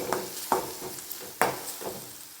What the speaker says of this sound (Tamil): இஞ்சி பூண்டு நல்லா வதக்கிக்கலாம்